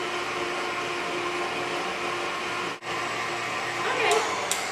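An electric mixer creams oatmeal raisin cookie dough at medium speed, a steady loud motor whine running throughout with one brief cutout midway and a few clicks near the end.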